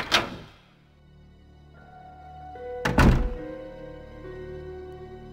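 Door in the Resident Evil 2 video game opening with a heavy thunk at the start, a low droning tonal hum, then a second loud clunking impact, with no voices.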